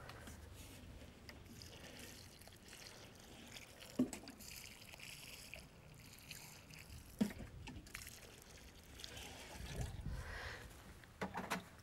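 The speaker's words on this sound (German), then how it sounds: "gießen wir alles zusammen gut an" Water from a can or hose splashes and pours over newly planted roses and white spring-flowering Iberis ground cover in a garden bed, a steady soft wash with a few louder splashes, no voices.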